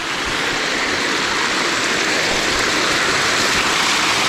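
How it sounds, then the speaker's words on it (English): Kuang Si waterfall in Laos, with water rushing over stair-like steps, a steady, loud, close broadband roar that stays constant throughout. "And the waterfall goes through the stairs."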